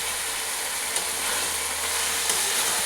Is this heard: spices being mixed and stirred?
yes